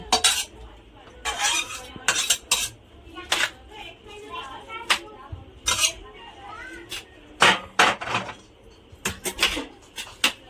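Cooked pumpkin dough scraped from a metal pan into a wide plate, repeated sharp scraping clinks and utensil taps in irregular bursts, close and clear, while someone talks.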